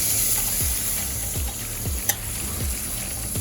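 Protein frying in a sizzling, golden spicy stew base, a steady close hiss with a few soft stirring scrapes and one brief clink, no voices.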